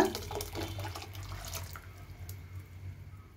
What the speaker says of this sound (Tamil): நான் மிக்ஸி ஜார் வந்து வாஷ் பண்ணி 1 கப்பு தண்ணி சேர்த்துருக்குறேன்